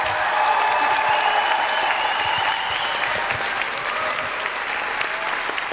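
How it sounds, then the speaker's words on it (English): An audience at a school winter concert for kindergarten through second grade gives sustained, steady applause that stays loud and dense from start to finish, with faint voices mixed in. "a huge round of applause for Mr."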